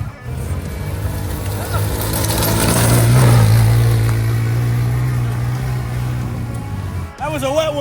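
A Honda TRX 90 ATV engine revs and drones close by, with pitch rising and falling as it is ridden; people's voices and a burst of warbling sound come near the end.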